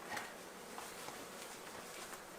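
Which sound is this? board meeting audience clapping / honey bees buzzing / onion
honey bees buzzing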